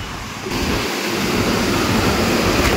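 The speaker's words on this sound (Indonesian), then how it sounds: "di bawah sana terdengar gemuruh ini, gemuruh air ya" A loud, continuous roar of rushing water below in a forest in rural West Java, broadband and steady, swelling slightly after the first half second.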